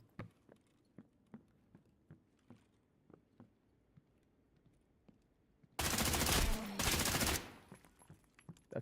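A grenade blast in Escape From Tarkov, a sudden loud, broad roar about two seconds long that bursts in after a run of quiet, evenly spaced taps, then tails off; no talking.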